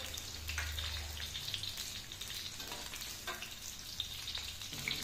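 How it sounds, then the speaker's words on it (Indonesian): Onion dropped into hot oil in a home kitchen crackles and sizzles steadily, with brief stirring scrapes and a low hum underneath, close and moderately loud with no talking. "Ini minyaknya sudah panas, saya masukkan bawang bombaynya."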